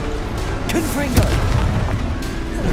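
A Confringo spell blast in the video game Hogwarts Legacy lands as a booming, rumbling explosion inside a dense, continuous battle din, with a voice briefly shouting over it.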